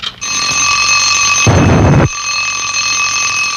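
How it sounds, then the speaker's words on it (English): A cartoon alarm clock rings in a bright, continuous metallic jangle, with a short burst of harsh noise crashing in partway through before the ringing carries on alone. "the alarm went off"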